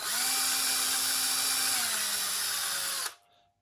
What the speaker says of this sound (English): hold it like that, hit the drill,